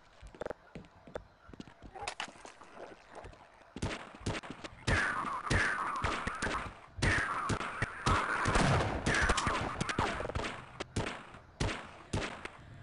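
Gunfire in the video game Half-Life: scattered single shots build into dense bursts of rapid fire and explosive cracks, loud and sharp, with brief quiet gaps between volleys.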